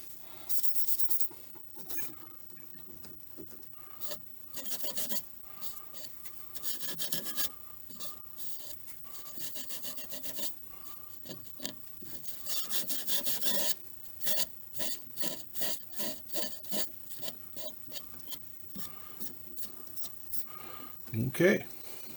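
Sandpaper rasps by hand along a wooden spindle in quick repeated back-and-forth strokes, close and moderately loud, while a voice talks over part of it.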